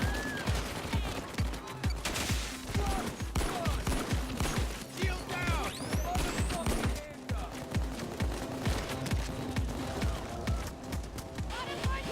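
Rapid gunfire in Payday aimed at a heavily armored bulldozer enemy, a dense stream of repeated shots with a voice talking over it.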